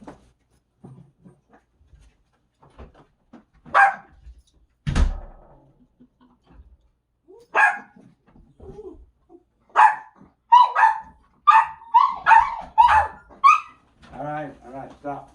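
Excited dogs bark at a mail carrier's arrival, a few sharp isolated barks early on, then a rapid close burst of barking near the end, with someone speaking in between.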